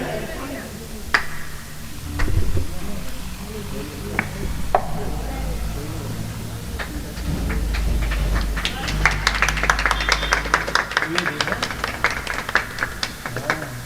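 An audience claps at a felicitation ceremony where guests are welcomed with garlands. Scattered claps build into sustained, dense applause while someone speaks over a loudspeaker.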